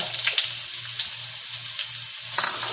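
Ginger fries in a pan for chicken tinola, giving a steady close, bright sizzle throughout, with a low hum running beneath it.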